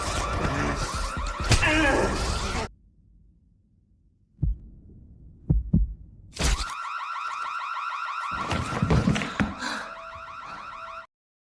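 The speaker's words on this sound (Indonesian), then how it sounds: "mengambil alat alarm kebakaran dan menyalakannya" A fire alarm switched on during a tense film scene gives off a loud, pulsing electronic ringing that stops for a few seconds, with a few faint clicks in the gap, then starts again and keeps blaring.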